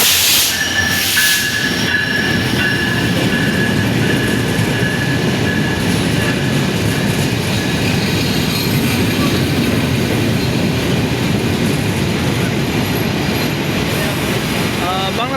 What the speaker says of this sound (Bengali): তো রেলগাড়ি কিন্তু এখন চলে আসলো।